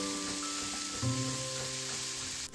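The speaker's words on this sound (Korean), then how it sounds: "당근도 채 썰어서 소금 뿌려 휘리릭 볶아줍니다" Julienned carrots sprinkled with salt stir-fry in a hot pan, giving a steady close sizzle with a brief louder hiss near the middle, with no talking.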